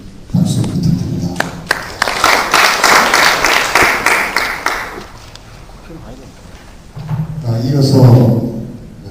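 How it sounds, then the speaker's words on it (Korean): An audience applauds a speaker at a ship operation and management session: a burst of clapping lasting several seconds, with a voice speaking before and after it. "좋은 경고를 해주신 한종길 회장님께 다시 한번 박수 부탁드립니다."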